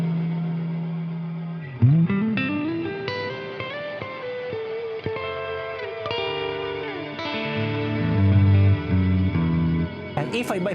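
A sustained electric guitar chord rings out through an EarthQuaker Devices Astral Destiny reverb pedal, notes sliding and shifting, with a lingering wash of echo trailing behind.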